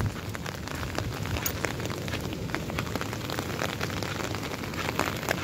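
Steady rain falls across an outdoor park with gazebos and a walking track, a dense, even patter of drops close by throughout, with no voices.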